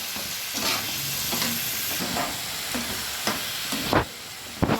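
Ginger-garlic spice paste frying in a pan for an egg malai curry, steady loud sizzling broken by scraping stirs at regular intervals.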